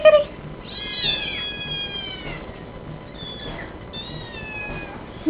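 A pet cat named Ziggy meows several times in drawn-out, rising and falling cries indoors, close and clear, with a quiet pause between calls.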